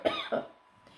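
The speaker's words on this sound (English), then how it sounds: "a cough is like this" A teacher in a kindergarten English class gives a demonstration cough: two close, sharp cough bursts in quick succession, followed by a quiet pause.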